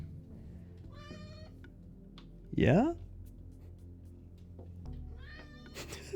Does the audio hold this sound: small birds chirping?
no